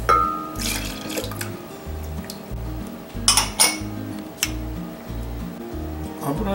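Liquid sauce ingredients pour and splash into a pot amid clinks of dishes and utensils, with a low hum underneath and no speech.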